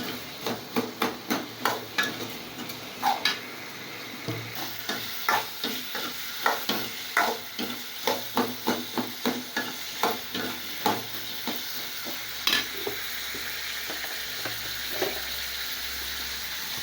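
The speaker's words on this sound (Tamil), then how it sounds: "நல்லா வதக்கலாம், வேகிற வரைக்கும் வதக்கணும்." Tomatoes with salt being sautéed in a pan for chutney, with repeated close stirring scrapes in a steady rhythm over a faint sizzle.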